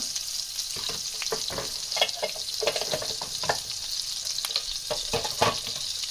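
Whole garam masala and cumin seeds fry in melted fat for a Sindhi paneer korma, giving a steady, soft sizzle broken by scattered clicks and scrapes of stirring close by.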